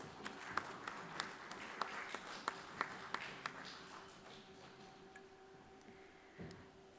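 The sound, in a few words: audience applause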